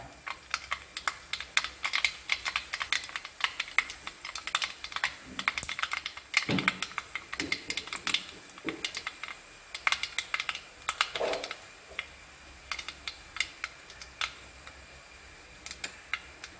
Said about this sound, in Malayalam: കടുക് പൊട്ടി തുടങ്ങി കേട്ടോ